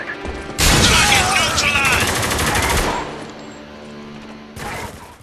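Heavy automatic gunfire erupts in Spec Ops: The Line, a loud, dense burst of rapid shots and combat noise lasting a couple of seconds, fading into a lower battle rumble before another short volley.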